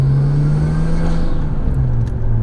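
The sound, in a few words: Nissan Stagea RS Four S exhaust, Blitz catback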